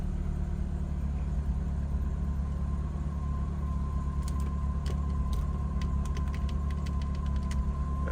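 A BMW drift car with a Pandem widebody runs with its MAF sensor unplugged, holding a steady low rumbling idle that never climbs into a clean rev, with faint ticking on top; no talking.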